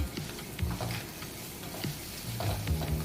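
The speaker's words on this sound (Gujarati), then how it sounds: "બધી વસ્તુને તેલમાં એક મિનિટ માટે સારી રીતે સાતળી લેવાની છે સોરી ઘીમાં સાતળી લેવાની છે" Cumin, chili and ginger sauté in hot ghee with a soft, constant sizzle, broken by the scrape and clatter of a spoon stirring the pan now and then.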